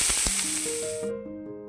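Cabbage hitting hot oil in a frying pan while making crispy aloo tikki, a loud bright sizzle and hiss that bursts in at once and cuts off after about a second, with no voices over it.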